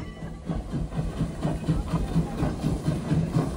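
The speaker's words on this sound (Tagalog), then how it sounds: "Ayun yung tren! Sasakay kami dyan!" A train rumbles nearby with a rhythmic low chugging pulse, steady and moderately loud, with mixed background noise around it.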